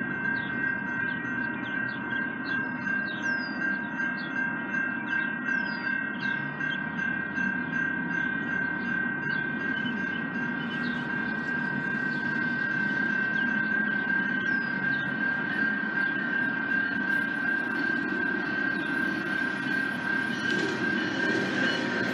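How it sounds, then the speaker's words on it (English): A westbound GO Transit commuter train rolls past on track 1 near Bronte GO station, a sustained loud rumble with a steady high whine and repeated short squeals and clacks over about twenty seconds. "11:56 a.m. westbound GO train on track 1"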